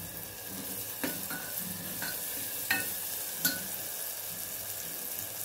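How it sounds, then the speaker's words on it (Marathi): Onion and tomato frying in a pan, a soft continuous sizzle broken by several light scrapes and taps of a spatula as the mixture is stirred, fairly quiet and without talk. "कांदा टमाटा आपला छान परतलेला आहे बघा।"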